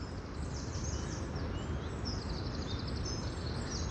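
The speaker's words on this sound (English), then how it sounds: "you can probably hear the birds are absolutely singing their hearts out" Woodland birds sing in spring, a quiet chorus of distant chirps and trills over a low background hiss.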